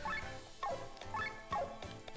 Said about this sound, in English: But that was the dog, of course.